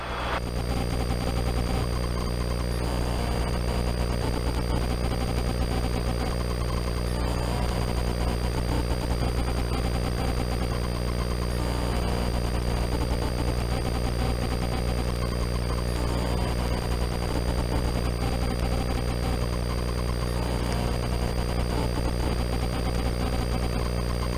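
A training helicopter cruising in flight gives a loud, constant cabin drone of engine and rotor with steady tonal whine and a rapid beating pulse, unbroken throughout and with no talk over it.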